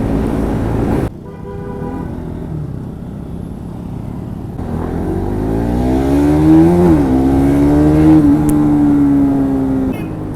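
KTM/Bajaj NS200 motorcycle engine revving on a road ride, a sharp blip after a brief pause, then a rising throttle pull that holds a loud, steady tone before easing off.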